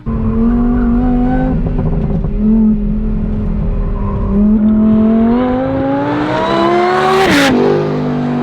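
A supercharged Lamborghini on a race track, blasting loud and close with a high supercharger whine layered over the engine roar as revs climb steadily, then spike sharply near the end.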